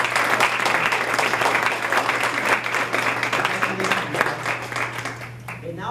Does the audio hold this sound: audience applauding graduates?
yes